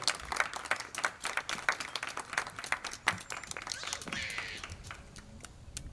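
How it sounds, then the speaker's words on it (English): Scattered clapping from an audience at a graduation ceremony, with uneven hand claps spread across the whole stretch and a faint murmur of voices underneath. "can we get a nice one more round of applause"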